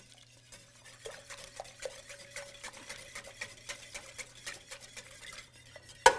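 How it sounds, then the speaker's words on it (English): A spoon stirs vanilla into a warm homemade eggnog mixture in a bowl, with soft continuous scraping and light clinks against the bowl, close and quiet with no talking. "We're going to stir this in."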